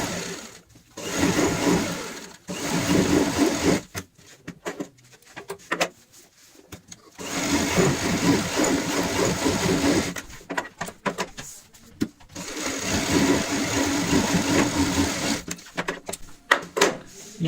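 A sewing machine stitches fabric over marked points while a stool is made from an old bucket, running in three bursts of fast mechanical chatter separated by short pauses.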